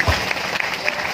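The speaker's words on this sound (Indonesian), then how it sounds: "Tepuk tangan untuk" Applause from the audience at a religious gathering in Semarang, a short burst of dense clapping with faint voices mixed in.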